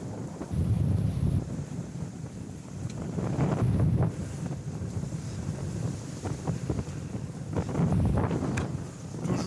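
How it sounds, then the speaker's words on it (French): Steady wind of about 15 to 20 knots rushes over the microphone aboard a moving sailboat, with low swells of gusting and water noise rising and falling throughout. "Vent relativement régulier entre, on va dire, 15 et 20 nœuds."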